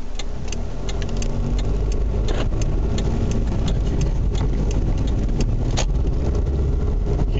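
Car engine running with a weird knocking from underneath, a steady loud idle-like drone with irregular sharp knocks repeating throughout, close up.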